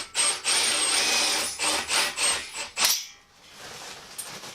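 Workshop sounds while bolts are fitted into a DIY power hammer: a loud, close run of grinding, rubbing metal-tool noise in several pulses, then a sudden drop to quiet with a faint knock.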